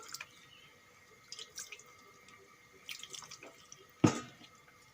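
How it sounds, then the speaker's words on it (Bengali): Water is added to a pan of cooking fish curry, a few faint scattered drips and trickles followed by one brief louder splash near the end, close and quiet. "সামান্য একটু জল দিয়ে দেবো"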